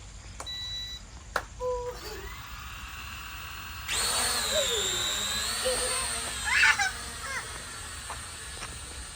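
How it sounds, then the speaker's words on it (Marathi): A few short electronic beeps, then a loud, steady high-pitched buzzing whine of small rotors that wavers in pitch as a little E99 toy drone flies close by. "आता हा ड्रोन मी चालू केलाय आणि आता हा रिमोट पण आता ऑन केला आहे"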